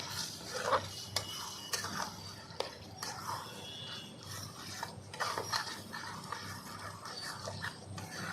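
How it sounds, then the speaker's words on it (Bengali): Chicken skin with spices being stirred in a pan, a close scraping and rubbing of a spatula with intermittent clacks against the metal and a faint sizzle underneath. "ভালো করে নাড়িয়ে মিশিয়ে নেব একসঙ্গে"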